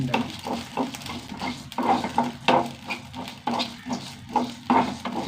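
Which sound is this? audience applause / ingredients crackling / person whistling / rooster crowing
ingredients crackling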